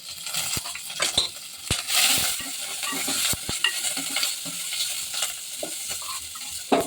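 Turmeric and dry chillies go into hot oil as tempering for dal rasam and sizzle up close, mixed with sharp clinks and scraping as the pan is stirred.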